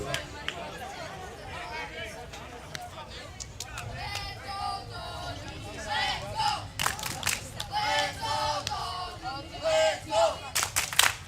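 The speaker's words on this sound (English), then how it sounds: "Tony Barreto getting cheers from the home crowd as he's behind in the count" A home crowd at a European Federation Cup baseball game cheers and shouts with rising, choppy bursts near a player at bat, mixed with broad chatter and some clapping.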